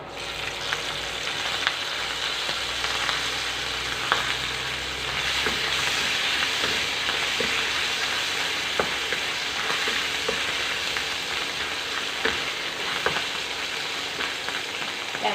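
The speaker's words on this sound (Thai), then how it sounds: "พอกระเทียมเหลืองก็จะเอาเต้าเจี้ยวลงผัด" Garlic and fermented soybean paste stir-frying in a pan, a constant close sizzle with scattered spatula scrapes and clicks throughout, no voices.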